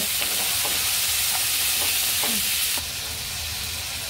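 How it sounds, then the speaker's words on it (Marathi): Cinnamon, cloves and cashews frying in oil for butter chicken, a loud steady sizzle close up, with a few faint scrapes of a stirring spoon in the pan. "1 दालचिनीचा तुकडा, 2 लवंगा। ठीक आहे। आणि हे चांगलं आपण तेलावर आता परतून घेऊ।"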